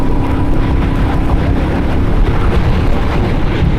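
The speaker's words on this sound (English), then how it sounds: "just whack open the throttle" Loud, sustained engine roar as the throttle is whacked open on a vehicle, a dense continuous rumble up close with no speech.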